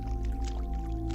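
Dripping water in a video game set inside a vast labyrinthine mega-structure, soft irregular drips and splashes over a steady humming ambient drone, no talking.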